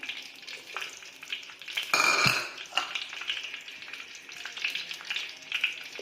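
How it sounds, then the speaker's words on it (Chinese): Ginger slices hitting soybean oil heated to about 90 degrees in a wok, a steady crackling sizzle that flares sharply when the ginger drops in and is stirred, with light clinks of utensil against pan. "油温90度的时候呢，倒入我们准备好的这个生姜片"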